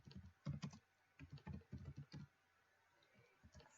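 Quiet, rapid keystrokes on a computer keyboard come in bursts of clicking, pausing briefly before a few more taps.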